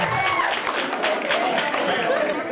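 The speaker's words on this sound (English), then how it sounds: "big round of applause there for our first two prisoners" Audience applause and crowd noise fill a launch night event as the first two prisoners are welcomed, a steady dense wash of clapping mixed with voices throughout.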